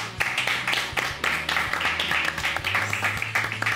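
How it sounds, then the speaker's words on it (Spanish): A studio audience on a Spanish-language martial arts talk show claps to welcome an aikido sensei, a steady stream of brisk, close handclaps with a low hum running beneath. "Vamos a recibir con un aplauso al señor Leonardo Sakanashi Sensei."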